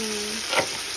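Potatoes frying in oil with crushed ginger, cumin seeds and dried chili tempering: a brief, close hiss of sizzling with a soft swell in the middle, heard alone.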